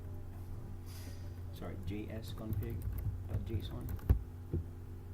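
Typing on a computer keyboard while setting up a JavaScript project file, with quick irregular clicks of keys close by under a speaker's voice.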